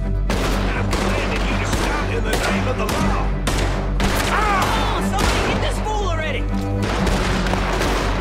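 Rapid gunfire in Red Dead Redemption 2, a dense barrage of shots over a steady game soundscape with occasional voices.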